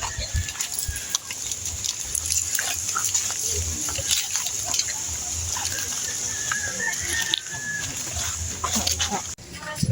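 Farmyard commotion with a dog barking and yelping among clucking chickens and grunting pigs, while people talk nearby over steady background noise.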